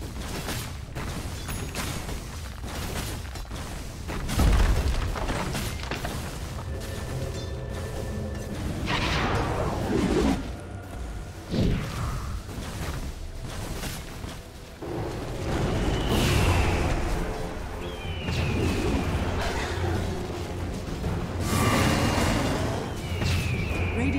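Muffled clashes, thuds and whooshing impacts from a Dota 2 battle as the Radiant bottom tower is attacked and brought down, a steady busy stream of combat effects with occasional louder booms, moderate in level.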